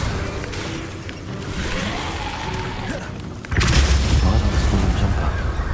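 An Incendio fire spell cast in Hogwarts Legacy, a rumbling whoosh that swells partway through into a louder, roaring fiery burst, sustained and close.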